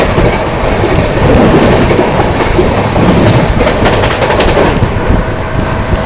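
A train runs loud and close through Khurja Junction, with a dense continuous rumble and rapid clattering of wheels over rail joints throughout, with no talk.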